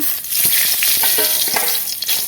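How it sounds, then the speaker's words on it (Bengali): A bay leaf and dried red chillies drop into hot oil left from frying pointed gourd, giving a loud, crackling sizzle that spits and pops continuously at close range with no voices. "এবার এই যে আমি ওই তেলেই দিয়ে দেব একটা তেজপাতা আর শুকনো লঙ্কা"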